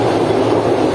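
A train rumbles over the Malir River bridge near Karachi in hot weather, a loud, continuous roar of wheels and carriages close by.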